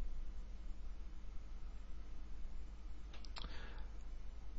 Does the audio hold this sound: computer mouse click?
yes